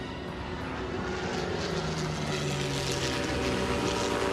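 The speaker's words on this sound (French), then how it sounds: "On dirait une sorte d'avion." A propeller aircraft drones steadily overhead in an animated adventure scene, a loud, continuous engine rumble that holds throughout with no voices.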